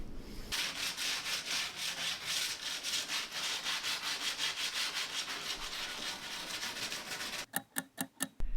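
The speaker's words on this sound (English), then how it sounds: "Okay, so I'm all done with the wet sanding." Steady, continuous abrasive rubbing of a wet sander across a concrete countertop, loud and close, ending with a few sharp separate scrapes.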